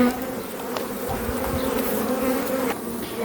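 Honey bees buzz steadily at an opened hive during spring development in a crowded nest, a dense droning hum with individual insects passing close, no voices.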